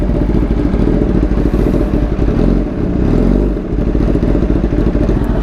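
Kawasaki ZX10RR sport motorcycle engine running steadily with a loud, dense exhaust rumble and a brief dip in the middle before it swells again, close by with no talk.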